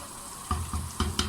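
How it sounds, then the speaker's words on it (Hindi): Turnips frying in a pot, about two kilos for a shaljam chicken dish, with a low sizzle broken by several bursts of stirring and scraping that come close together and stand out clearly. "शलजम को अच्छी तरह से भून लेंगे।"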